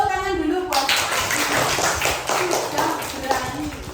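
A class claps for a student, a burst of scattered applause from many hands that starts abruptly and continues unevenly, with voices speaking before it begins.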